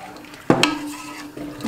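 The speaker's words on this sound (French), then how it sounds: "Donc on mélange bien pour éviter les grumeaux." A spoon scrapes and clinks against a pot while potato and corn soup is stirred to keep it smooth, with one sharp knock followed by softer stirring noises, close and moderately loud.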